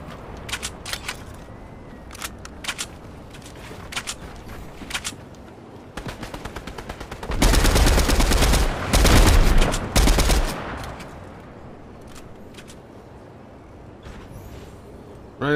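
Fortnite gameplay gunfire: scattered single shots and short bursts give way to two dense, loud automatic volleys, then a few more isolated shots, heard up close with no talking.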